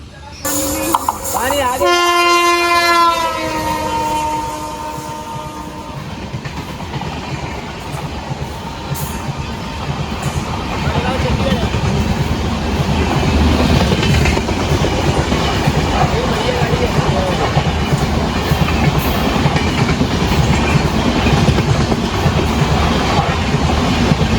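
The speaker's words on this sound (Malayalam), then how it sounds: "മഡ്ഗാവിൽ നിന്ന് ചണ്ഡീഗഡിലേക്ക് പോകുന്ന ഗോവ സമ്പർക്രാന്തിയായിട്ട് ഇപ്പോൾ ഇവിടെ എത്തും വണ്ടി" Goa Sampark Kranti express from Madgaon to Chandigarh on the Konkan Railway sounds a long horn as it approaches, then its carriages roar past close by with a steady, loud rumble and rail clatter.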